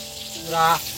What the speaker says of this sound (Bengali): মাছ ভাজা হয়ে গেছে, এবার তুলে নিচ্ছি